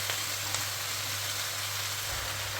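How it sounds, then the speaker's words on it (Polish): Zucchini frying in a pan with sautéed onion and sausage, a steady soft sizzle with light crackles throughout, fairly quiet and close, with no voices. "Do podsmażonej cebulki z kiełbaską dodajemy cukinię."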